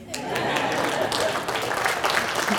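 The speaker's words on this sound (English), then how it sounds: "Somebody wanted to clap." Scattered audience applause in a hall during a 2019 State of the City address, a steady patter of clapping lasting a few seconds with a voice faintly underneath.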